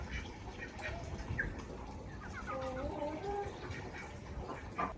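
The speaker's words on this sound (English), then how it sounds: "Some elderly folks even raise chickens and ducks right outside the market." Chickens and ducks raised outside a market in a quiet Chinese border town cluck and squawk faintly at a distance, with short calls scattered over low background noise.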